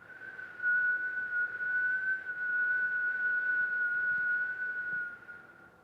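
A person whistles one long, steady, high note on a slow exhale during a breathing exercise, sustained for about five seconds before fading, clear and close with a quiet background.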